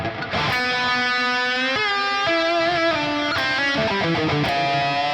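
Line 6 Metallurgy Modern pedal's Mod Echo post effect on a distorted electric guitar: sustained chords and notes with modulated, shimmering repeats trailing behind, loud and steady with no talking.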